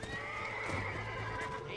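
A bronco horse in Red Dead Redemption gives a long, shaky, wavering neigh that rises and falls for most of the moment, with hoof sounds and low background noise beneath and no voices.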